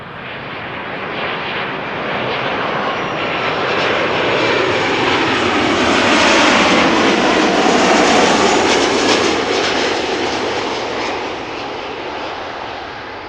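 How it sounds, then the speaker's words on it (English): A Transavia Boeing 737-800 arriving at Amsterdam Schiphol Airport roars past close and loud, its broadband jet noise swelling to a peak midway and then slowly fading as it passes. "Next airplane to arrive over here is the Transavia 737-800 flight 6332 arriving from Valencia."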